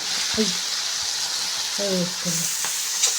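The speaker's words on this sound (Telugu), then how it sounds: "ఇవన్నీ కలుపుకొని బెండకాయలు వేసుకుందాం" Okra frying in a pan with turmeric and masala for a bendakaya curry, a steady bright sizzle running throughout, with a few short voice-like tonal bits breaking through.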